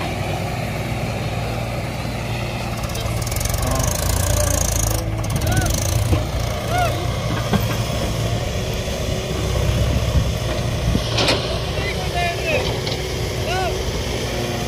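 A Mahindra 585 DI XP Plus tractor engine runs steadily after starting, a loud, close diesel drone with a continuous low rumble throughout, while people talk over it.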